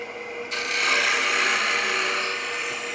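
A skew chisel taking a rapid, rough peeling cut on a spinning wood cylinder on a lathe makes a steady, loud hissing rasp that begins abruptly about half a second in and continues without pause.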